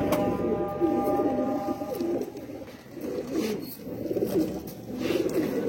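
Low, throaty cooing from low-flyer pigeons repeats in soft rolling phrases, close by, with faint background rustle and no speech.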